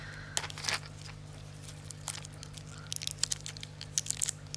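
Plastic and foil packaging on a Renata 365 SR1116W button battery peeled open by hand, with scattered crinkles, small tears and crackles, soft and close, alone over a low steady hum.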